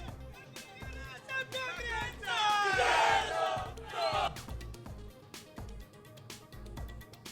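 MNS party workers celebrate outside Raj Thackeray's Shivtirth residence, with a loud crowd roaring and cheering in a swelling burst at the middle, amid sharp bangs of firecrackers and continuous chatter.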